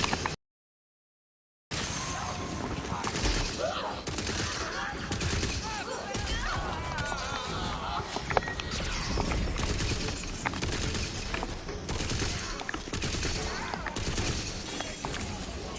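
Crossbow and shotgun fire from the video game Tiny Tina's Wonderlands rattle in dense repeated bursts and impacts over a busy game mix after a brief silent gap.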